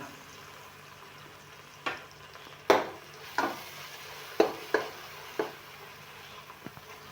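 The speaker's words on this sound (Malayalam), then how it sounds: "മൂടി തുറന്നതിന് ശേഷം ഒന്നുകൂടി ഇളക്കി കൊടുക്കുക." A spoon scrapes and knocks against a pot of chicken stew in a few sharp, separate clinks, with a quiet simmering background between the strokes.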